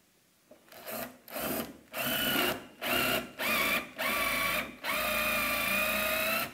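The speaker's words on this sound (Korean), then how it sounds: "이중 드릴 비트라고 해서 워낙에 목재를 그 피스를 조이기 전에 이 비트로 구멍을 뚫려야지 목재가 갈라지지 않거든요" A power drill with a double drill bit bores pilot holes into wood before screws are driven, in a series of short, loud whirring bursts separated by brief pauses, the last run longer and steadier.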